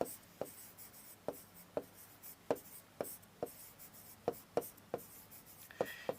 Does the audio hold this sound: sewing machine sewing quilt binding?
no